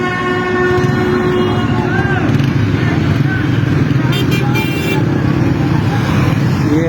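Convoy of Rangers vehicles rolling past on a road, a loud continuous engine drone and tyre roar with tonal horn-like blasts sounding over the traffic.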